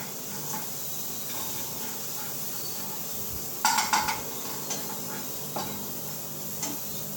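Onion frying in a pan, a soft continuous sizzle with a few sharp clinks and scrapes of a utensil against the pan.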